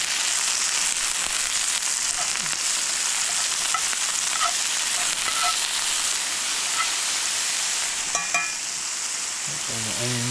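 Peppers sizzle and fry in a camp pan over steady broadband hiss, with scraping stir strokes and small pops throughout; a louder clatter of the pan near the end.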